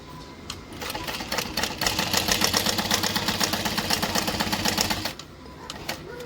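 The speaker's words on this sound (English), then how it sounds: "We're going to stitch straight up." A sewing machine runs a rapid, even stitching rhythm up a bag pocket for about four seconds, close and fairly loud, then stops, leaving a quieter room.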